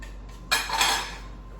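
Garlic stirred into extra virgin olive oil in a pan, heard as a short burst of scraping and sizzling that starts abruptly, swells briefly and tapers off, close by with no talking.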